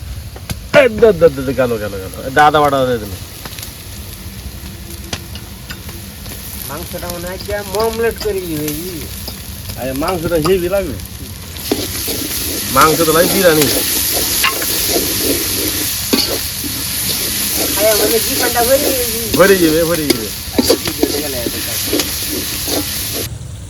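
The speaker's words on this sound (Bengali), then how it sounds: "রসুনের বাটাটা এখন দিয়ে দেবো রসুনের বাটা দিল" Garlic paste drops into a hot pan for beef tehari and a loud, steady sizzle and hiss rises in the second half, with a few stirring clinks; someone talks over the quieter first part and briefly during the frying.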